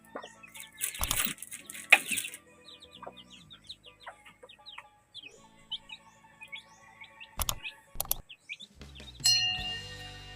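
Backyard chicks peep in quick, high chirps while a mother hen clucks nearby, with scattered louder bursts and short rustles breaking in at intervals.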